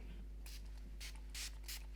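Several quick spray-bottle bursts while cleaning a classical guitar, close and crisp, coming in short irregular puffs with brief pauses between them.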